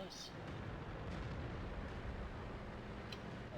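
An artillery shell strikes a Skoda T25 medium tank in World of Tanks, producing a loud, deep booming rumble that fills the whole stretch, with a brief bright crack near the start and another late.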